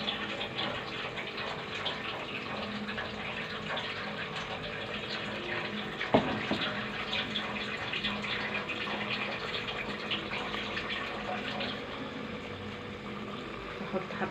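Water running steadily from a kitchen tap while kofta is being cooked, a continuous close gushing stream with one brief knock partway through and faint voices beneath.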